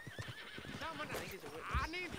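A horse in the online mode of the video game Red Dead Redemption 2 gives a loud whinny over clopping hooves, with players talking throughout.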